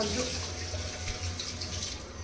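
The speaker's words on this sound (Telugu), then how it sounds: "దాంట్లోనే కొన్ని నీళ్ళు వేస్తే వెయ్యి." Water runs steadily into a cooking pot in a home kitchen, a soft continuous pouring splash at moderate loudness with no talking over it.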